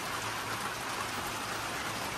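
Steady rain falls in Alaska as a dense, even hiss with no pauses, fairly soft and close, with no voices over it.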